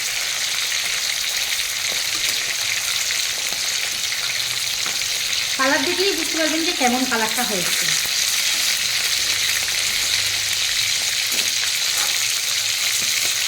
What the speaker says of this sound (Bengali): চিকেনটা অবশ্যই হাই ফ্লেমে ভেজে নিতে হবে।